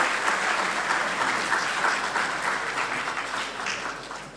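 Audience applause at a provincial government consultative council session in Cabinda, a dense steady patter of many hands that gradually tapers toward the end.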